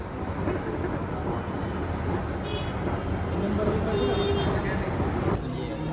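Steady rumble of a train at Dadar railway station in Mumbai, with continuous rail and station noise throughout and faint higher tones above it.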